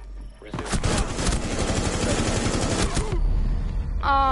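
A sustained burst of rapid automatic gunfire sprayed in a first-person shooter game, loud and continuous for about two and a half seconds before cutting off, followed by a short electronic chirp.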